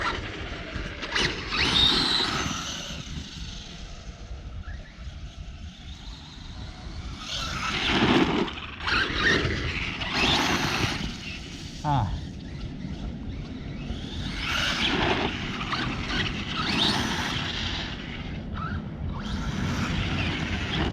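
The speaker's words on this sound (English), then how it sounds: "every time I pull the trigger really hard, the slipper clutch would, start slipping" A radio-controlled truck fitted with masher tires runs in bursts, its electric motor whining and rising under hard throttle while the slipper clutch slips with a grinding squeal, close and fairly loud, with no voices.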